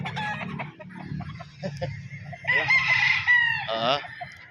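A rooster crows loudly and near at a game farm in Santo Tomas, Batangas, one long drawn-out call followed by a shorter one, with scattered clucking and low farm noise underneath.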